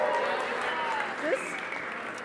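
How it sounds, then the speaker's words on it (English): A crowd applauding a raffle winner at a livestreamed event, a steady wash of clapping with a voice briefly heard over it. "Let's give this winner a big round of applause"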